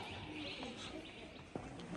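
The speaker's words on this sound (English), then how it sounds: "All these birds flying around." Birds flit around a cavern entrance on a desert road trip, giving faint, sporadic chirps and calls against steady outdoor ambience, with one brief sharp click near the end.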